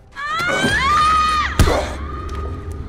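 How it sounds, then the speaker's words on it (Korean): A woman screams in a horror film set in a desert mine. The single drawn-out, high-pitched shriek is loud and close, and it cuts off into a sharp thud with lingering noise behind it. "미씨의 비명소리를 들은 둘은"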